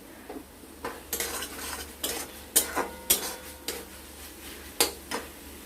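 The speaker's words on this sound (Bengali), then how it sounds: "আঁচটা বাড়িয়ে আমরা এটা কিছুক্ষণ নাড়াচাড়া করব।" A spoon scrapes and knocks against a pan while katla fish masala with whole tomatoes is stirred over high heat, giving about a dozen distinct metallic strokes over a soft background sizzle.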